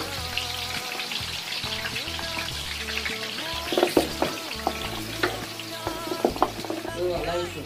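Onion frying in oil for a large pot of Nigerian party egusi soup, a steady close sizzle running beneath a person talking, with a few scattered clinks and spatters.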